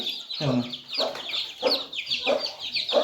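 Poultry chicks cheeping close by while being handled for vaccination, a run of short high peeps repeating roughly every half second, with rustling handling noise underneath.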